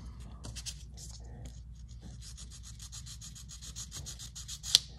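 Light hand sanding of a small Tamiya Ducati Superleggera V4 model kit part, steady soft rubbing strokes in close quiet detail, with one small sharp tick near the end.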